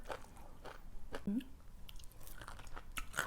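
Someone chews a crunchy pounded bean salad with sun-dried snakehead fish and sticky rice, making faint, close bites and crunches in an irregular rhythm at low volume.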